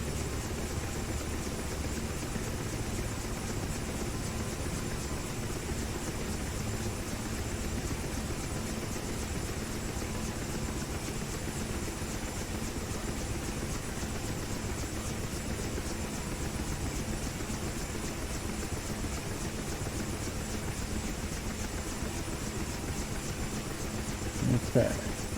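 A Huey helicopter in DCS left running on the ground to cool down, a steady droning engine and rotor hum at constant level throughout, with faint talk and a small click near the end.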